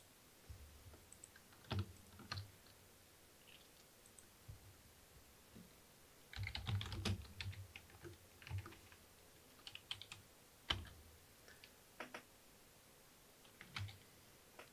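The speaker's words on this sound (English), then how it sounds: "So we can type in hello world and it will print it back out." Keys clatter on a computer keyboard as someone types at a terminal, quiet and close, in irregular bursts of clicks with short pauses and a few sharper keystrokes.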